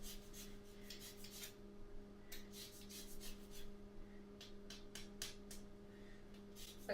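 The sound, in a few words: zesting a lemon on a grater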